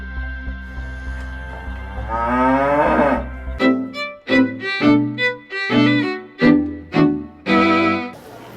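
A cow moos repeatedly and loudly at close range, one long drawn-out low call followed by a series of shorter rhythmic moos.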